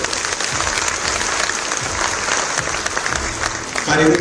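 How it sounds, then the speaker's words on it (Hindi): Sustained applause from a crowd at the founding day ceremony of Dr. Ram Manohar Lohia Institute of Medical Sciences, Lucknow, steady and fairly loud throughout, with a voice briefly audible near the end. "तालियों की गड़गड़ाहट"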